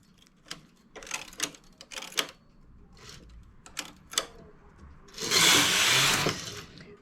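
Domestic knitting machine working the first rows of a newborn baby hat, its carriage giving a run of sharp clacking bursts followed by a longer, louder sweeping rattle near the end, heard close with no talk.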